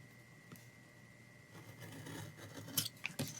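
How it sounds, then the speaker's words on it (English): Scissors snipping paper for a creative journal, quiet close cuts building to a few sharper snips near the end against a faint background hum. "So I'm going to cut it just past the dot."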